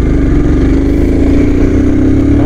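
A Scram motorcycle engine accelerating toward 100, a loud close mid-pitched drone with a tone climbing steadily throughout and wind rushing over it.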